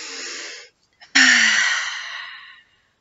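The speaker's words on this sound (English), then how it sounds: "Let's take a big deep breath" Two breathy exhales follow each other, a short one and then a longer, louder sigh-like breath that trails off, close to the ear with nothing else behind them.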